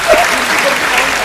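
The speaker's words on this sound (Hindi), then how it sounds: "पीछे के लोग तालियां बजा दो।" Brief burst of crowd applause at a Hindi poetry recital in Nokha, dense clapping from an audience lasting about a second, with a faint voice over it at the start.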